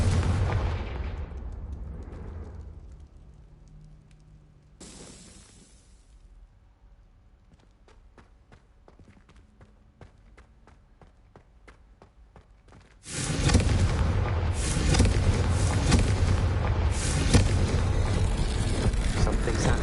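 Blasting-spell explosions in the Hogwarts Legacy video game: a loud burst fades into a quieter stretch of scattered thuds and crackles, then a dense, sustained roar of blasts erupts and holds.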